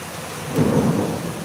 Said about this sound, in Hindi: देखिए बिजली भी कड़क रही है।